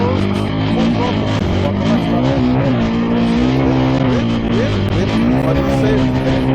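Honda Africa Twin motorcycle engine held at full throttle while crossing desert terrain, a loud, continuous drone with a steady pitch that climbs slightly near the end and never drops out.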